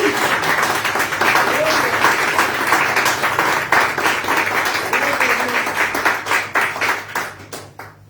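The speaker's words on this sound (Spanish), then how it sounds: "Denle un fuerte aplauso." A church congregation applauds loudly and steadily during a Spanish-language sermon, dense clapping filling the room with voices mixed in, then thinning to a few scattered claps at the end.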